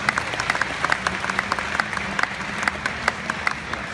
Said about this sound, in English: So can we give Robin Ching and IFBB a round of applause, please